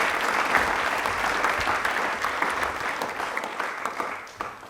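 A studio audience at a televised quiz show claps loudly for a guest doctor, with steady, dense clapping that thins a little as it closes.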